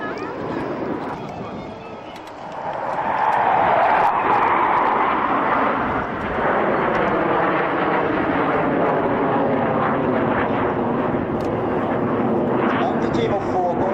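Patrouille Suisse team of four Hawker Hunter jets flying a loop at the 1994 RIAT air show at Fairford, a continuous distant jet roar that swells and holds, with a commentator talking over it throughout.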